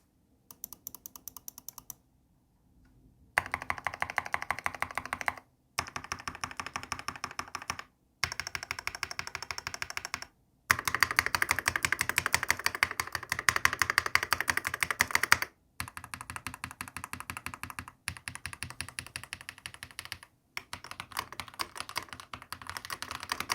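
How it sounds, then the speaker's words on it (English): Bursts of rapid typing on a Keychron K2 Max mechanical keyboard with tactile brown switches, soft clicks in quick runs separated by short pauses, close and fairly quiet. "Typing on the K2 Max sounds nice and overall is pretty quiet."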